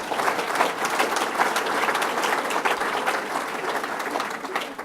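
An audience applauds at a 2014 Bassmaster Governor's Challenge fishing event, a dense, even wash of clapping that carries steadily for several seconds without letting up.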